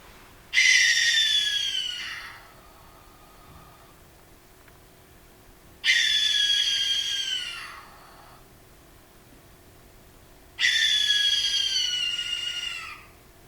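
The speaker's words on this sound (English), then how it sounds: "Their vocalizations consist of raspy shrieks that may not seem especially owl-like." Three long raspy, hissing owl shrieks, each lasting about a second and a half, spaced evenly and loud against a quiet background.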